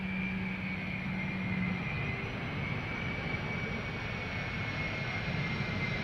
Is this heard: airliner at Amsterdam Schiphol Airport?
yes